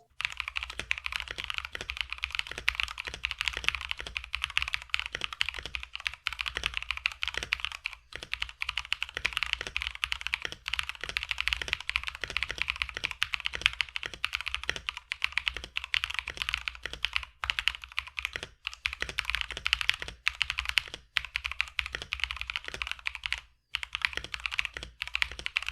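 Continuous typing on a mechanical keyboard fitted with Tecware Pearl Clear switches, tape and PE foam modded, producing dense, soft, muted clacks in a steady uneven rhythm, close and alone for the whole stretch.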